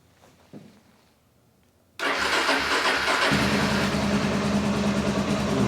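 Quiet background, then a Suzuki Djebel 250 XC motorcycle engine catches at once and settles into a loud, steady idle close by.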